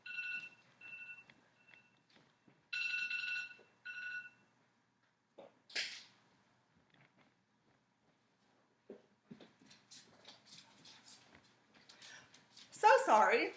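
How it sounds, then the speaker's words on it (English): A cell phone alarm, thought to be silenced, sounds as a series of bright electronic tone bursts with short gaps. Later come quieter rustling, scattered clicks and squeaky noises. "an alarm is going off on my cell phone that I thought was silenced"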